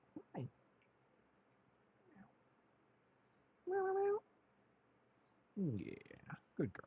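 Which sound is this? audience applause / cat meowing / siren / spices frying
cat meowing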